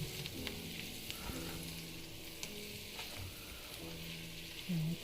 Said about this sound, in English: Gonna mix it, just stir and make sure it is well mixed and nice